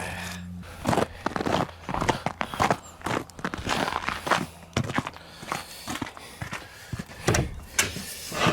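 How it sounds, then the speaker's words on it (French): A wooden door sticking in its frame after freeze-thaw swelling is forced open at a Quebec home in spring, giving a run of close, uneven knocks, scrapes and thumps, with footsteps and a faint voice in places. "ma porte, elle coince un peu parce que c'est sûr que gel dégel"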